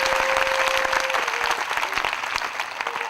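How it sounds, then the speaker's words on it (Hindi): An audience of school students applauds a spiritual teacher's discourse in India with sustained, dense clapping that holds steady and then eases slightly toward the end. "मैं ताली बजाता हूं।"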